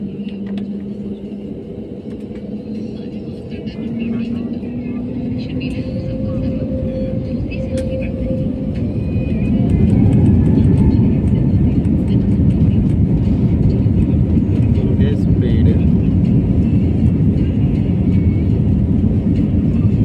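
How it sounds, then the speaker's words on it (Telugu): A passenger jet accelerates down the runway for takeoff, its engine roar building steadily and then holding loud and close from inside the cabin, while a person talks over it. "ఫ్లైట్ ఇంకా ఎగరలేదు కానీ స్పీడ్ దాదాపు 70-80 కిలోమీటర్ల వేగంతో"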